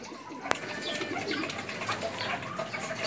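Pigeons coo in a loft, with low throaty calls that repeat steadily and sound close, over a busy background of other birds.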